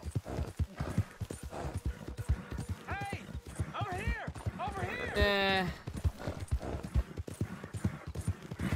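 Steady galloping horse hooves in the video game Red Dead Redemption, with several whinnies and a loud neigh in the middle, close and clear.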